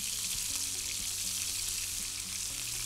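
Shish tawook chicken fries in hot oil in a pan with a close, continuous sizzle and crackle throughout, with no talking.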